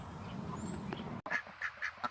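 Ducks quack inside their wooden duck house, a series of short nasal calls in a loose rhythm, close and fairly loud, following a stretch of muffled movement and rustling.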